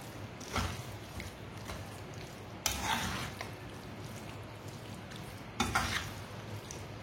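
Garam masala is stirred into mustard greens saag in a pot on a switched-off stove, with soft sizzling under scraping spoon strokes and a few sharper clinks of the spoon against the pot.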